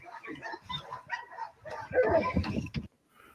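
A dog barks in short irregular bursts with yips and whimpers during muzzled protection training. The barks sound fairly close and are mixed with a few other noises.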